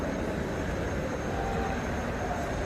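A Six Flags Over Texas mini mine train ride runs with a steady low rumble and rolling clatter, heard from a moderate distance as a continuous drone without talk.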